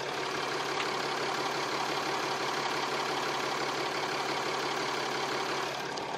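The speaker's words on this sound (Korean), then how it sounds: "바로 엔진 소리 한번 들려 드릴게요." A Mercedes-Benz GLS 350d 4Matic diesel SUV with about 70,000 km idles as a steady, smooth, even engine hum, heard close and alone with no talking.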